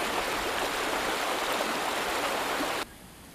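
A river stream rushes steadily with a loud, dense, hissing roar of flowing water, close and unbroken for nearly three seconds before it cuts off abruptly into quieter background.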